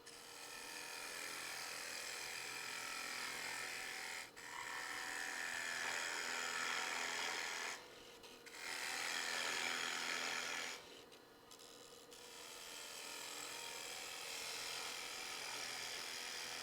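Woodturning gouge taking a clean cut across a spinning wood vessel on a lathe, a steady hissing shear with brief breaks where the tool lifts off, close and continuous with no talking.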